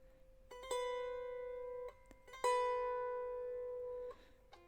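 A lyre sounds a quick grace note that slides into a sustained, ringing main note, and the figure is played twice, each note decaying slowly and clearly in a quiet room.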